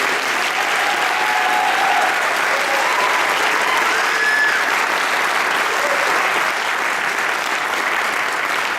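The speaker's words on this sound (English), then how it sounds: "Let's give them one big round of applause for all that." An audience at a school sixth grade band concert claps steadily for the young musicians, a dense, even wash of applause sustained from start to finish at close range.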